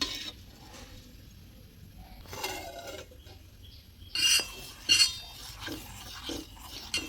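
Rice, dal, milk and jaggery mixed in a cooking pot for sweet rice, with a few scraping stirs and light metallic clinks of a spoon against the pot, close by, among quieter stretches.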